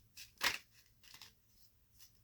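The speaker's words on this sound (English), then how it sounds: "I'm going to give the cards a few shuffles." Tarot cards being shuffled by hand, a few quiet riffling swishes in separate bursts, the second strongest, close and soft with no talking.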